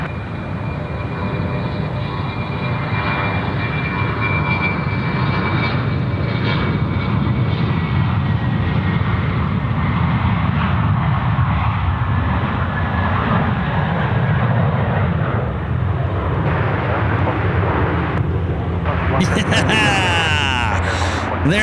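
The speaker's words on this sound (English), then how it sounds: "There it goes, the Boeing" A Boeing 717 jet takes off at Sydney Airport, its engines producing a long, sustained roar that stays loud and steady throughout, with a sharp burst of noise near the end.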